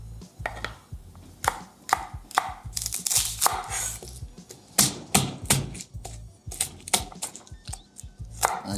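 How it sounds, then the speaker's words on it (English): A knife roughly chops pimento peppers on a cutting board for Trinidadian green seasoning, a steady run of loud close thuds in uneven bursts with no talking. "Just cutting the stems off the pimento. Giving them a rough chop."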